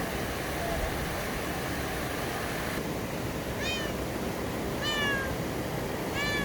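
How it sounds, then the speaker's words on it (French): A small cat in Morocco meows several times, short rising-falling calls over a steady outdoor rush of water from the Akchour waterfalls, with a voice talking nearby. "Un petit chat, tiens, petit chat."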